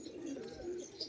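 A pigeon coos softly in a short, faint low call, heard alone against quiet background noise.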